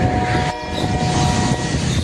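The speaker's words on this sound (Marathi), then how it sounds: "डोंगराच्या दिशेने रेल्वे पट्टीवरती रेल्वे धावत आहे." A freight train speeds along railway tracks toward the hills, its steady, loud rumble and rattle filling the whole stretch close by, with a brief dip midway.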